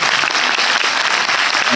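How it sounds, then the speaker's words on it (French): A French premiere audience applauds a film director, a dense, loud burst of clapping from a crowd filling the room without pause. "c'est signé Franck Belloc, on peut l'applaudir déjà pour ça."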